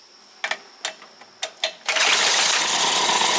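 A small outboard boat motor: several sharp pull-cord or starting bursts, then the engine catches and runs with a steady, bright, buzzing drone, close and loud.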